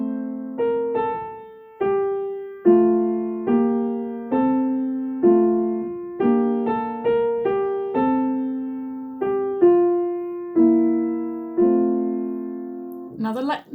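Solo piano plays a festive carol line with both hands: steady chords in the left hand under a right-hand melody, each note struck clearly and ringing out at a moderate, even pace, with no voices.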